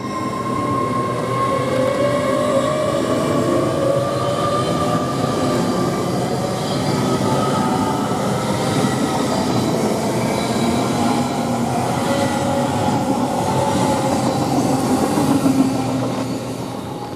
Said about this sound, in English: we got this train now going towards London Paddington now from Cardiff Central